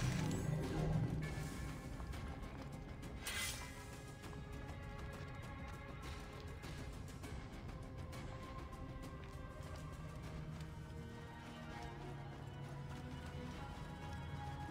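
Hooves clip-clop at a steady trot as a horse is ridden in the video game Assassin's Creed Origins, a rhythmic clatter running through the whole stretch with game ambience beneath and a brief loud knock near the start.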